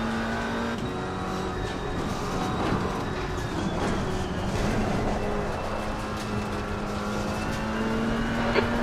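GT race cars lapping Oulton Park in the Assetto Corsa Competizione sim, a multiclass endurance race, with a steady loud engine drone and rising and falling revs as one car closes on a slower class car, engine tones overlapping throughout.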